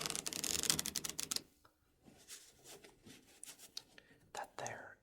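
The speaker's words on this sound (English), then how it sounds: "That there is also essentially the Riffle Shuffle." A deck of playing cards is riffle shuffled up close: a dense, rapid flutter of crisp card clicks for about a second, then quieter handling rustles with soft whispering in the background.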